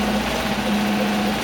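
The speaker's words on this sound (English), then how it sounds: "So we're sewing on the opposite side, and this will sew a little flag design here on the side." A Happy HCD2 single-head embroidery machine stitching a small flag design onto the side of a ballcap, a loud steady mechanical hum with a fast, even whirring drone.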